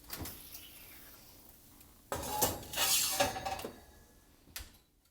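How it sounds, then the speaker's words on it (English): A baking dish of tomatoes and garlic slid into an oven: faint clinks, then a loud metallic rattle and scrape of the rack and dish, ending with a sharp knock as the door shuts. "So let's put this in the oven"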